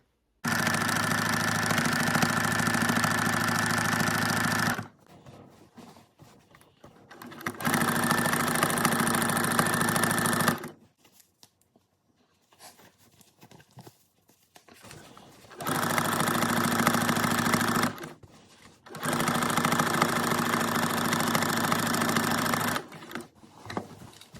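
A sewing machine quilting an upcycled quilt runs in three steady bursts of stitching, each several seconds long, separated by quiet pauses; the whirring motor is close and loud, with no talking.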